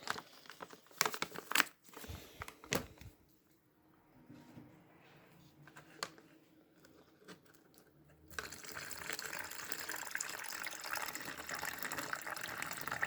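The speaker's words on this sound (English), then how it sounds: "I'm just gonna go in between and fill up about half of the pouch." Water poured into a Romanian Army combat ration meal pouch, with crinkling plastic handling first, then a steady rushing pour that grows louder and continues to the end.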